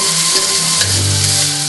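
Five-spice is tossed into fried rice sizzling in a hot pan, giving a bright, steady crackling hiss with faint stirring scrapes and a low hum underneath.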